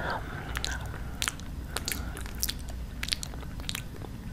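A voice imitating soft nibbling bites in an ASMR roleplay, close-miked mouth clicks and little crunchy bites landing in an irregular rhythm over a quiet background.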